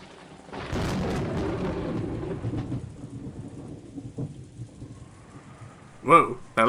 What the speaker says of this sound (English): Whoa, that last thunder was loud.